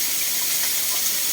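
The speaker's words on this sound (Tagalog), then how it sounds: "Lagyan ko itong tubig." Water pours steadily into a cooking pan of canned tuna and broccoli with a close, continuous hissing splash, loud and unbroken with no talk.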